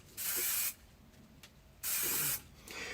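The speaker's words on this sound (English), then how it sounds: "I'm going to use a little bit of spray glue" Spray glue hisses from an aerosol can in two short, loud bursts about a second apart, with a faint hiss starting again at the end and no talking.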